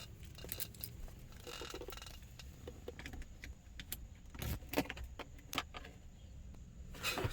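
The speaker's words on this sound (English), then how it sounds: "one of these 4 keys is the right one." A bunch of four keys jangling and clinking inside a car, a Gambler 500 project vehicle, as the right one is sought; faint intermittent metallic taps and rattles with a few sharper clicks.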